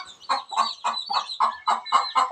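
A chicken raised on a house rooftop clucks close by, with about eight evenly spaced clucks in quick rhythm and nothing else heard.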